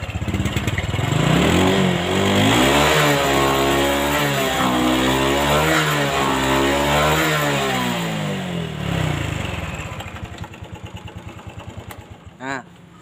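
A motorcycle engine on a test ride, a loud close rev that climbs and holds for several seconds, then eases off into a softer idle putter before one brief final blip.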